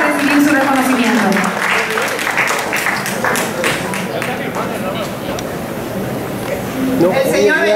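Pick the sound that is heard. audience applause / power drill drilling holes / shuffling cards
audience applause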